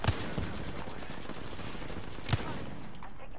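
Gunfire in Apex Legends during a holiday event match: two sharp, distinct shots about two seconds apart, fairly faint over a steady background wash.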